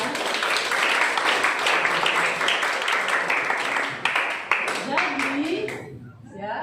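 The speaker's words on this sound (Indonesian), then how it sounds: "tepuk tangan untuk kalian" A classroom audience at a university physics lesson claps steadily for several seconds, then the applause thins out and fades near the end.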